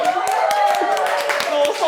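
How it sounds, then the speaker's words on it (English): Several people clap their hands in quick, regular, fairly close claps while voices chatter and sing over them during a night shift. "Stop clapping, I'm doing all wrong."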